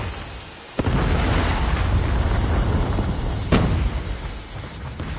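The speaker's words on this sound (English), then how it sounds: "Friendly predator missile inbound." A predator missile explodes in the Call of Duty Mobile video game, a sudden loud boom followed by a sustained roaring rumble and a second blast a few seconds later.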